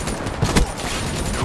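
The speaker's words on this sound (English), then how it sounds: "Keep shooting at me." Continuous rapid gunfire from Call of Duty Black Ops 3 multiplayer, a loud dense burst of overlapping shots without pause.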